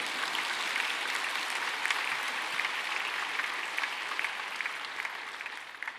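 A church congregation applauds a pastor's anniversary words to his wife, a sustained, even wash of many hands clapping that fills the room for several seconds.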